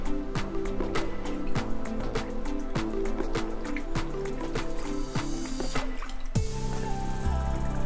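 Knitted wool shawl being submerged and squeezed by hand in a basin of water, close-up drips, trickles and squishy splashes in an irregular rhythm, with a louder slosh near the end.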